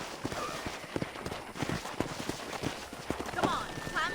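Horse hooves clip-clop in Red Dead Redemption, a quick, regular trot of nearby hoofbeats that continues under game characters talking.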